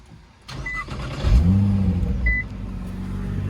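A Nissan R35 GTR running E85 fuel with a valved exhaust starts up with a short crank, revs up as the engine catches, then settles into a steady idle nearby, quiet in tone.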